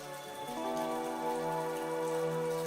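Rain falls in a soft, steady hiss beneath sustained, gentle musical tones, quiet and unchanging throughout.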